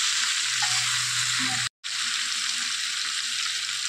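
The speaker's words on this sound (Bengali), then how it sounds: "এবার মশলাটা দিয়ে দেব, দিয়ে ভালো করে কষিয়ে নেব।" Spice paste sautés in a hot pan, a dense continuous sizzle with faint stirring, briefly cut out near the middle before resuming just as loud.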